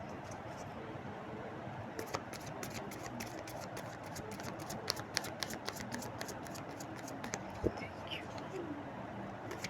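A deck of cards is shuffled and riffled, giving a series of quick, soft papery flutters and snaps, close and fairly quiet, repeating in irregular bursts against a faint background.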